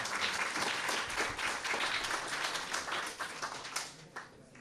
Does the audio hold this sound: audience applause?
yes